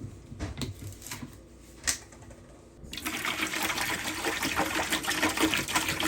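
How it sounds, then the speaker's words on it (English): Cranberry juice glugs from a whole container into a bowl of holiday fruit punch, a steady close splashing pour that swells louder and fuller after a few seconds, with no talk. "next, you're going to add a whole container of cranberry juice."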